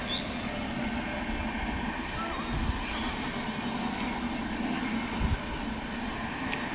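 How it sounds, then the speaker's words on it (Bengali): A train passes in the distance behind a house, heard from a rooftop as a steady low rumble with faint rattling, continuous and even throughout, with a couple of brief thumps near the microphone. "ওই দিক দিয়ে ট্রেন যাচ্ছে"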